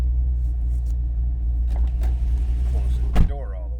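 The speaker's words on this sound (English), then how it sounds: "this car has a rumble to it" A 2003 Chevrolet Corvette Z06 coupe idles with a deep, steady low rumble, heard close from the cabin. A door thuds shut near the end, and faint light clicks sit over the engine.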